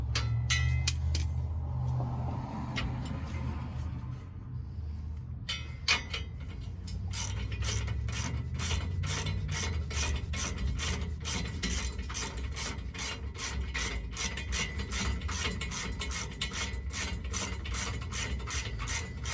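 A hand ratchet tightens traction bar bolts against leaf springs during a wheel hop fix, its steady rapid clicking running for most of the stretch after a few seconds of dull handling and rubbing noise, close and clear with no talk.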